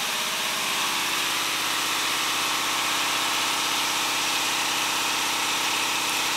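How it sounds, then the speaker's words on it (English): An air compressor in an auto shop runs loud and steady, a continuous close mechanical drone with a buzzing rumble that holds level throughout, with no voices. "That's our air compressor kicking on."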